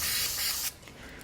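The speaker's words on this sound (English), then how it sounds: "we're going to use some Super 77 as a spray adhesive." A can of Super 77 spray adhesive gives one close, loud hissing burst lasting about half a second. The burst stops sharply and quieter rustling follows during a battery pack rebuild.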